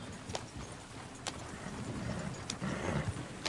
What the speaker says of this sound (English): the horses! Damn horses!